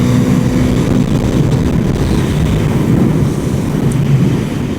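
KTM Duke motorcycle engine held at high revs on country back roads, a loud continuous roar with rushing wind noise, steady throughout with no talk.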